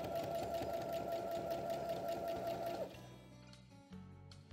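A sewing machine stitches a fine seam on a fabric pencil case, running as a steady, close whirring hum with a rapid stitch rhythm for about three seconds, then stopping, followed by faint handling clicks.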